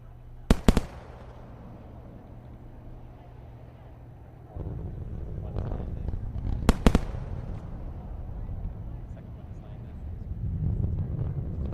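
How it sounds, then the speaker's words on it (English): Sonic booms from Falcon Heavy side boosters landing after a USSF-44 launch hit as paired sharp double cracks, one early and one later, loud over wind rumble and crowd noise, with people talking around them. "we are moments away from sonic boom goodness"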